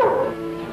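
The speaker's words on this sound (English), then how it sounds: "The other man had a hunting dog." A hunting dog's short yelping bark in a vintage radio detective drama, a single close, brief sound effect.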